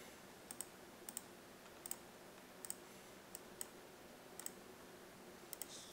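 Quiet, sharp mouse clicks arrive in an irregular series of about ten while points are placed with a pen tool for rotoscoping, with no talking.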